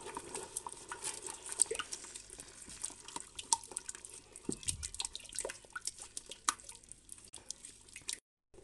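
Water poured into tomato sauce in a Ninja Foodi Max multicooker and stirred together, giving soft close splashing and dripping with light patter and scraping through the whole stretch, with no talking.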